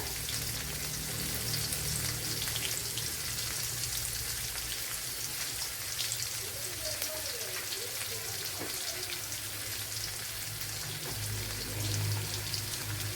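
Ginger and a few green chillies sizzling in oil in a pan for a koorka curry, with a steady, soft, continuous crackle throughout and no talking.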